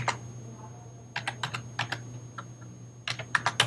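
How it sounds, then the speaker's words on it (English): Keys clack on a computer keyboard as a PIN number is entered into a library workflow system, with quick bursts of close typing and a short pause midway over a steady low electrical hum. "so let me type that one in."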